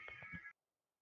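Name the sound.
cat meowing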